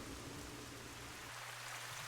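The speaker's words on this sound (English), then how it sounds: "It is rain." Steady, hissing rainfall in the game Myst V: End of Ages fills the whole stretch, a soft, even wash of falling drops with a faint low hum underneath.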